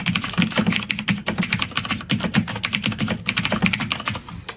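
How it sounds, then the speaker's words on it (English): Rapid, steady keystrokes on a computer keyboard as a song lyric is typed in, close and clear with no voices. "I'm going to type in a lyric from a song that I like."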